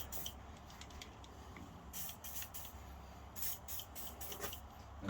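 WD-40 sprayed from an aerosol can onto a TW150 blade during a blade change: several short, faint hissing bursts of spray close by, with no talk.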